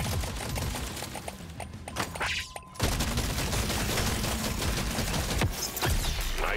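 Rapid, relentless gunfire crackles from weapons in an alien shooter video game, with dense overlapping bursts of shots running almost nonstop at a steady moderate level.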